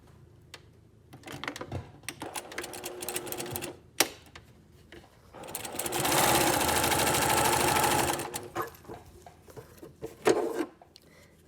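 A sewing machine stitches through two layers of fabric in bursts: short runs of rapid mechanical ticking, then one sustained, louder stretch of fast stitching before it stops, with pauses and handling noises between.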